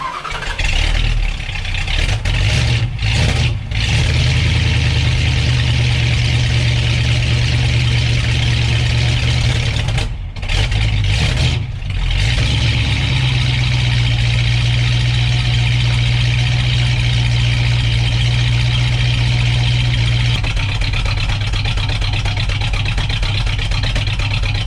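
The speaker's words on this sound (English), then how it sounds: "very cold startup on a 1970 Dodge Challenger RT 440 6-pack 4-speed manual Hurst pistol grip shifter" A 1970 Dodge Challenger R/T with a 440 Six Pack V8 and four-speed manual fires up cold and settles into a loud, lumpy, rumbling idle. The idle holds for a long stretch, with short revs and dips along the way.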